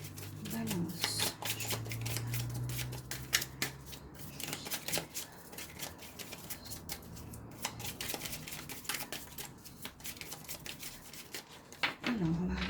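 Tarot cards, a witches' tarot deck, shuffled steadily with dense crisp riffling and flicking over a low background hum, with a brief voice near the start and again at the end.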